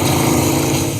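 A Curtiss Wraith electric motorcycle accelerating hard on a track, producing a loud, steady high-pitched whine with a buzzing mechanical edge, close and continuous for about a second.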